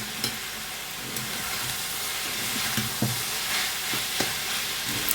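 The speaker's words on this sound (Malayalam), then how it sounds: "വീണ്ടും ഇളക്കി ചേർക്കാം." Turmeric and salt stirred into coconut oil in a pan for an ivy gourd stir-fry: a close, continuous sizzle with scattered scrapes and taps of the spoon, and no voices.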